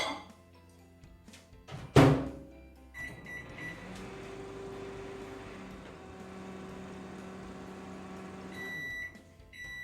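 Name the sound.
microwave oven heating a glass of milk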